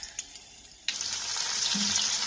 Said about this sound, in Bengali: এবার এই তেলের মধ্যে শুকনো লঙ্কা আর কালো জিরে ফোড়ন দিয়ে দিলাম